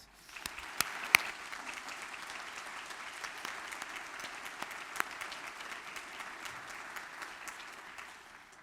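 A commencement crowd of graduates, families and friends breaks into sustained applause, a dense, even patter of many hands with occasional sharper claps, heard from a distance and fairly soft, tapering slightly at the end.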